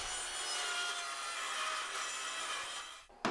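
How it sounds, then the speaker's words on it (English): A circular saw rips steadily through wood wall paneling during an interior demolition for a pass-through opening, a loud continuous buzzing cut lasting about three seconds before it abruptly stops. "I used my circular saw to cut through the paneling"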